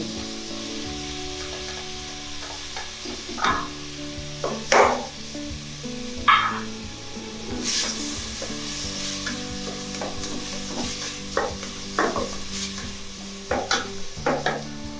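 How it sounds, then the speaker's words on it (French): Pineapple and cucumber cooking together in a pan as part of a sweet and sour whole fish dish, with a steady close sizzle broken by scraping stirs and occasional knocks of utensils against the pan. "Nous allons laisser bien cuire ici l'ananas ainsi que le concombre."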